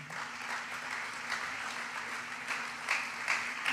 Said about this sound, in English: Would you join me in giving a round of applause for Mark Paulillo?